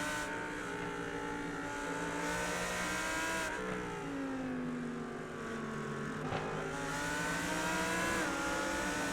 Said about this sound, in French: je pense que les sons de voiture sont pas assez forts